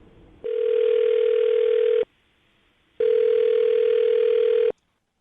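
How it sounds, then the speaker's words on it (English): A phone line rings back on an outgoing call, two long steady electronic tones each lasting well over a second with a short silent gap between them, clear and loud with no voices. "I'm going to dial her phone number right now"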